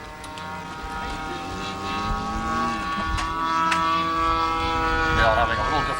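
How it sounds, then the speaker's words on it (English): An RC model warplane taxis out at Mile Square Park's model airfield, its propeller engine giving a steady, loud droning buzz throughout, with a commentator talking over it on a public address. "Mr. Mel Santmeyer taxiing out"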